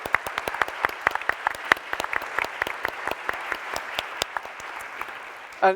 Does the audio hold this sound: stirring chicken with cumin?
no